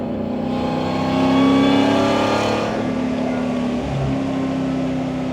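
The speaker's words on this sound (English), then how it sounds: "We're gonna test out the acceleration here." A 2020 Ford F150 Lariat pickup accelerates hard in four-wheel-drive high, its engine swelling into a loud, close revving roar that peaks, then eases through a gear change and keeps pulling.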